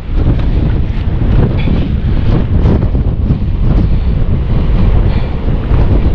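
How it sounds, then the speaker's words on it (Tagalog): Strong wind buffets the microphone outdoors on the water near a fish net, producing constant loud rumbling gusts with waves and flowing current underneath and no talk. "pasensya na po kayo, mahangin."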